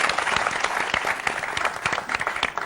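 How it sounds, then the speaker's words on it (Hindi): Applause from a studio audience at a televised celebrity interview, a dense steady patter of many hands clapping for about three seconds with no talking over it. "जोरदार ताली।"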